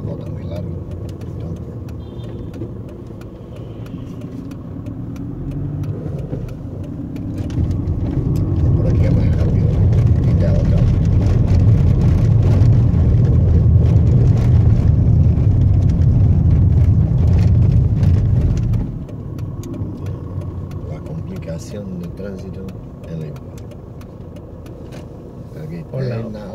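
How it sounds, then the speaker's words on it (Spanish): Heavy city traffic at the Marqués de Pombal roundabout in Lisbon, a steady roar of car engines that swells loudly in the middle and then drops back, heard under people talking. "Muy tráfico"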